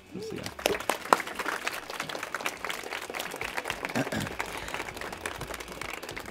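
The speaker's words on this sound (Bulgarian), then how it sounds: "Аплодисменти за Злати." Applause breaks out from an audience at a rooftop talk event, a spread of many hand claps at moderate level lasting several seconds, mixed with a few voices and crowd murmur.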